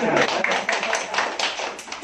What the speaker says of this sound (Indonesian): Ya, kita tepuk tangan dulu buat Pak.